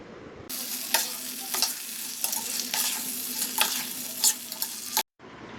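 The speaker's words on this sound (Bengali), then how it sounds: "এবার ভাজা আলুগুলো দিয়ে ভালো করে কষিয়ে নিতে হবে।" Fried potatoes are stirred and sautéed with spices in a pan, a steady sizzle broken by repeated scraping strokes of a spatula at an irregular, fairly quick rhythm, close and alone without speech.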